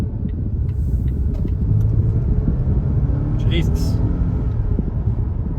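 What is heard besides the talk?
Volvo XC90 T5 accelerating hard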